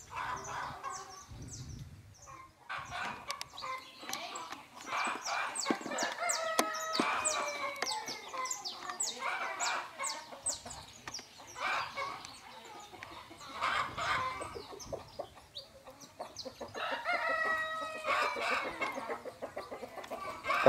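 Rooster and hen on a rural Brazilian smallholding, clucking and calling in repeated bursts with a crow-like call, fairly close and steady throughout, no talking.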